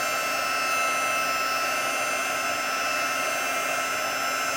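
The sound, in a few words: heat tool blowing on embossing powder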